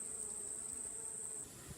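Bees inside a hive give off a steady, thin high-pitched buzz that holds evenly for most of the moment, then drops away near the end, leaving only a soft low background.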